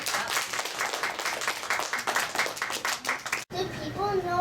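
A small group, likely classmates, claps in a quick, uneven rhythm after a student's astronomy presentation, with a voice speaking right after the clapping stops.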